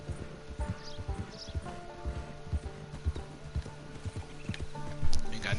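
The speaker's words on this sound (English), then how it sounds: "This weak ass horse." Hooves clip-clop steadily on a horse in a video game, with a whinny rising partway through and a louder burst near the end, set against a busy game soundscape.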